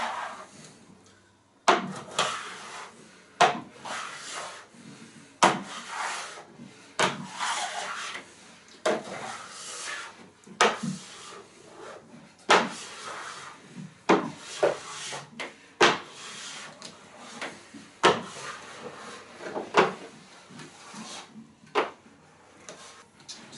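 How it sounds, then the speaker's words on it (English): A scraper rasps wax off a freshly waxed snowboard base in quick, repeated pulls, each stroke a sharp rough scrape followed by a short pause, close up and steady in rhythm. "Just quick strokes, scraping it all off."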